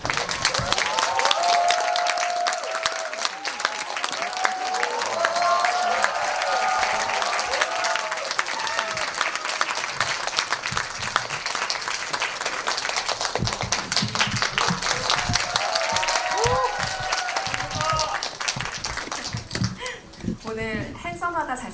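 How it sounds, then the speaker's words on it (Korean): A cinema audience claps and cheers as three guests, including actor Jung Woo-sung, walk in at a film screening talk. The dense applause holds steady for about twenty seconds and fades near the end, with a voice heard through it. "게스트들 입장하실 때 큰 환호와 박수로 세 분을 맞이해 주시기 바랍니다"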